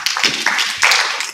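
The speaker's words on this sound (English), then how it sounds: "And let's clap for ourselves." Audience at a system launch event clapping, a brief burst of scattered, fairly close hand claps with uneven rhythm over a short span.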